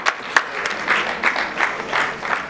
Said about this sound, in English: A round of applause to MTN Nigeria.